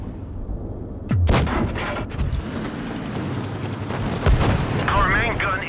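A tank's main gun fires in a tank battle video game, a T-32 finishing off a T-34, with two heavy booms about three seconds apart over steady rumbling battle noise and a faint voice.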